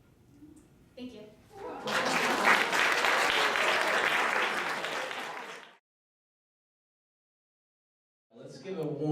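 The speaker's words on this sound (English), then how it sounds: "Let's give a warm round of applause for Isabella McIlvaine, ladies and gentlemen" At a New York Browning Society high school poetry awards event in NYC, an audience gives a poetry reader a warm, full round of applause lasting several seconds. Brief talk comes before it, then silence, then a voice resumes.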